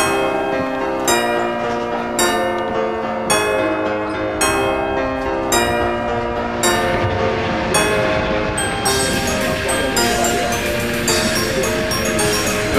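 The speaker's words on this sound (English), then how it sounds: "there's a CRH train stopping at Tianjin West Railway Station." A CRH high-speed train at Tianjin West Railway Station, loud and close, with a steady rumble of rolling rail cars and ringing, bell-like tones layered over it throughout.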